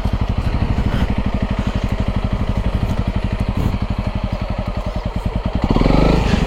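A Honda CRF300L motorcycle engine chugs loudly and close up in a steady thumping rhythm while the bike turns around on an off-road forest track by a river, ending in a brief rev.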